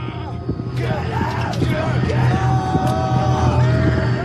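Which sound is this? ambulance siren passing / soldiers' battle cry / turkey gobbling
soldiers' battle cry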